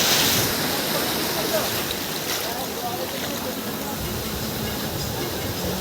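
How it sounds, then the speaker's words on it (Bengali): Rough sea surf pounds the shore at Shankarpur during a high tide, a loud, continuous roaring wash of breaking waves close by, with no clear pauses. "সমুদ্রের আওয়াজটা শুনে বুঝতে পেরে গেছে সমুদ্র কতটা উত্তাল"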